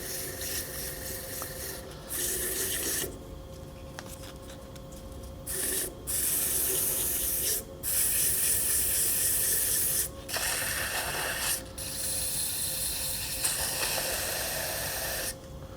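Abrasive paper hisses against a wooden Christmas tree spinning on a wood lathe, a loud steady rushing scrape broken into bursts by several brief pauses as the sanding is lifted and reapplied.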